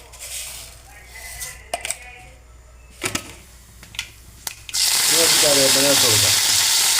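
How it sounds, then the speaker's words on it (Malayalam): Mustard seeds go into hot coconut oil in a pan. A few sharp clinks and taps come first, then a sudden loud, crackling sizzle fills the last two seconds, with a voice heard briefly. "ഇനി ഒന്ന് ചൂടായതിന് ശേഷം നമ്മൾ കടുക് ഒന്ന് പൊട്ടിച്ചെടുക്കാം"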